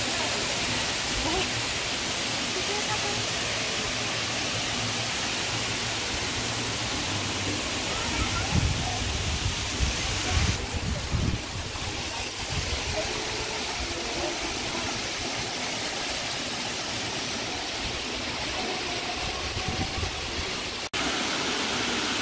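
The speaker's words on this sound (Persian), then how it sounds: "اینم از آبشار سمیروم." Semirom waterfall in Isfahan Province, Iran, roars as a steady, loud, broadband rush of falling water, constant and close throughout with only slight swells, and no voices.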